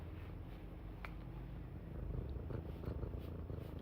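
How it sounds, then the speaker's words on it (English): A cat purrs steadily and close, a soft continuous low rumble that holds throughout with no talking over it. "Do you hear a purring?"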